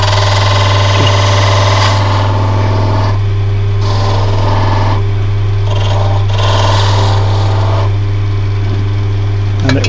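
A wood lathe hums steadily while a gouge shapes and rounds the edges of a captive ring being turned, giving a continuous close scraping whir with slight shifts as the cut changes, and no one speaks.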